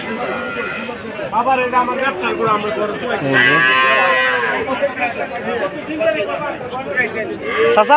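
Dairy cows at the Choumunirhat rural livestock market: a long, loud moo rises out of a busy crowd, with people chattering and bargaining over the animals throughout.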